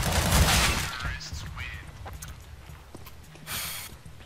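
Gunshots in the video game M4VİŞ come as a loud burst of rapid fire at the start and another shot near the end, with people talking underneath.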